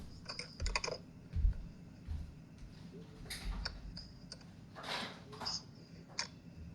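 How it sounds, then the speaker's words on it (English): Ratchet working a hose fitting loose: a rapid run of small clicking ticks near the start, then scattered clicks and creaks at close range over a low background rumble. "I just gotta take out this hose with the ratchets."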